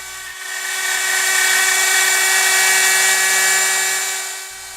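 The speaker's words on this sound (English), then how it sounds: "This shows the final pass with the pattern bit bearing following the template, removing about 1/8 inch of material." Wood router with a bearing-guided pattern bit trimming about an eighth inch of material along a template outdoors, a loud high-pitched whine that ramps up, holds steady under cutting load, then winds down.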